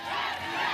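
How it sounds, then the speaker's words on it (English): Spectators along the route of the men's elite road race at the 2025 UCI Road World Championships cheer and shout in a brief, dense, loud roar. "This crowd are absolutely enjoying their day today."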